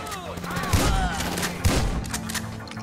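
Bursts of AK-47 gunfire in GTA V, a pair of heavy booming volleys with rattling shots between them, loud and close, with a voice faintly under the shooting.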